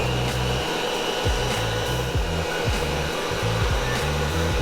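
An electric mixer whirs loudly and steadily as it beats vegan cupcake batter made with applesauce, its motor pitch stepping up and down in a repeating pattern of short bursts.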